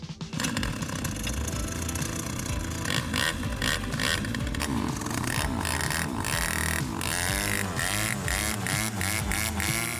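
A cheap Tiger children's ATV quad weighing 33 kilos is ridden with its small engine running, a loud, steady, buzzy drone that holds close throughout with slight shifts in pitch and no speech.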